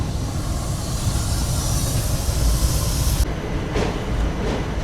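Vasco-Da-Gama to Tirupati weekly express pulling out of Londa junction: a steady, loud rumble of rolling wagons with faint wheel clatter, the hiss thinning slightly near the end.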